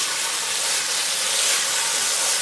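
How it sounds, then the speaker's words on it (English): Chicken pieces sizzle over an open fire pit for Singapore chicken noodles, giving a continuous, close, bright hiss without pause and no talk. "listen to this sizzle"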